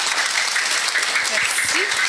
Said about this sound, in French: Bravo, excellent, vous l'applaudissez